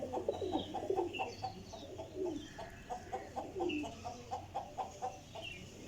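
Pigeons coo and rustle close by in a steady, rhythmic series of soft throaty pulses, with faint chirps and handling noise in the background.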